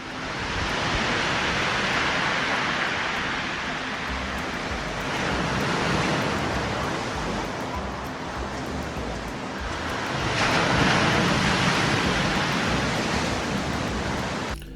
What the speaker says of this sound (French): un son de mer avec des vagues